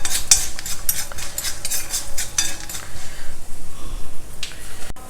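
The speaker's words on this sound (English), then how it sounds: "Roast the peanuts well." Peanuts, dry red chilies and urad dal roasting in a pan, with steady scraping and stirring clatter from a spoon against metal and a soft background sizzle, close and continuous, no talking.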